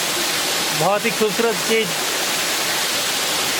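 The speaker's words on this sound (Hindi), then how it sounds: "अगर मुझे पता होता कि यहाँ पे एक और इस तरह से झरना है" A waterfall on the Narmada pilgrimage route gives off a steady, close rushing roar that fills the whole clip, while someone speaks briefly over it.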